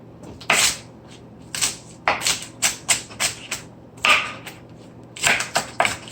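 Bok choy being finely chopped with a knife on a cutting board, a quick irregular series of crisp close taps and clicks in small clusters, with no talking.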